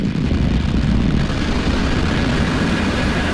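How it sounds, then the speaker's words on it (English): Falcon 9 rocket liftoff for the NROL-95 launch from Florida: a loud, continuous broadband roar with heavy low rumble that holds steady throughout, with no voices over it. "And liftoff. Go Falcon. Go NROL-95."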